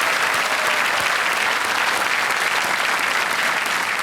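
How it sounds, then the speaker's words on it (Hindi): A television quiz-show studio audience applauds loudly and steadily to welcome a contestant, a dense, even wash of clapping with no voices over it. "तालियों के साथ एक बार फिर इनका स्वागत।"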